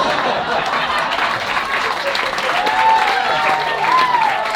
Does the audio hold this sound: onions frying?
no